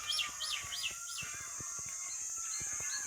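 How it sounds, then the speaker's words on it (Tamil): Repeated chirping bird calls, including peacocks, over a steady high insect drone, with faint clicks and taps scattered throughout an outdoor hill temple setting in Tamil Nadu. "இந்த மயில் அந்த பூச்சி பறவைகள் சத்தம் கேட்கும்போது"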